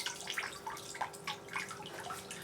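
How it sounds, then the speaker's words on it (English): Water pours onto a gardenia's roots and soil for a thorough soak, a soft continuous splashing and trickling stream with faint bubbling, fairly quiet and close. "So keep going, give it a good soak so that all settles down."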